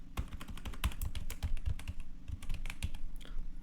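Rapid keystrokes on a computer keyboard as a password is entered, a steady run of close, crisp clicks with no talking.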